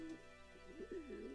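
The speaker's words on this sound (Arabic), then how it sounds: "الحكم أو حمام الزينة، الاسم المحلي في سلطنة عمان للحمام المنزلي" Soft, low cooing from domestic pigeons in Muscat, Oman, a few murmured calls in quick succession, faint and close against a quiet background.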